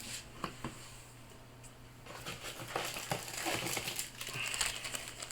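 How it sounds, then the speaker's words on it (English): A plastic Ziploc bag being handled in a kitchen during leftover food storage, giving soft crinkles and scattered rustles up close that grow busier toward the end. "we're going to take our food items, we're going to put it in the Ziploc bag"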